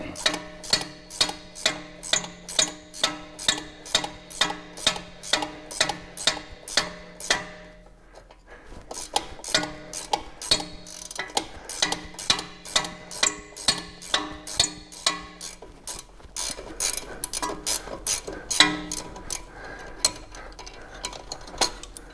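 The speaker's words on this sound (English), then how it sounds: "Now we'll put our ratchet wrench on it and T40 and continue to remove the nut." Ratchet wrench with a T40 bit backing off a nut on a 2013 BMW X5 during front lower control arm replacement, a close, regular series of sharp clicks, pausing briefly midway before resuming more loosely.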